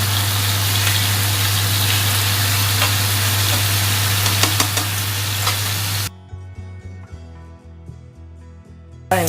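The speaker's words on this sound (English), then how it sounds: "Let's put some olive oil and we can fry our steak. Now let's put our steak on it." Steak frying in olive oil in a warm skillet: a loud, steady sizzle for about six seconds, then the sound drops sharply to quieter crackling and pops.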